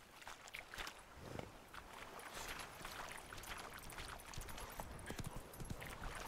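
Roach the horse trots in The Witcher 3, with quiet, steady clip-clopping hooves and a soft watery ambience behind them.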